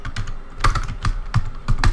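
Fingers tap out a command on a computer keyboard, close and fairly loud, in quick uneven bursts of key clicks for about two seconds with no talking.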